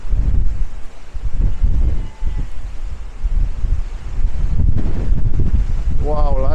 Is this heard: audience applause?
no